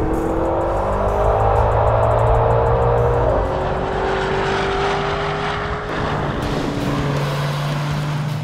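A Maserati Levante Trofeo SUV launches hard under launch control, its engine roaring loudly and climbing through rising pitch sweeps with gear changes, heard close and sustained throughout.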